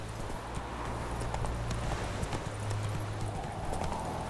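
Galloping horse hooves in The Witcher 3, a steady rapid clip-clop rhythm running throughout over a low ambient game soundscape.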